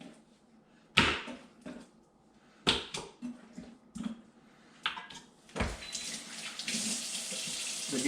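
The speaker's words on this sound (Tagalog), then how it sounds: "Lagyan natin ng tubig." Tap water splashes into a pot of pork trotters for kare-kare pata, opening with a few sharp knocks and short bursts, then settling into a steady, close, loud rush of filling water.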